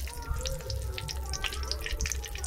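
Dried red chillies drop into hot mustard oil in a pan, giving a steady close sizzle and crackle throughout with faint watery hiss.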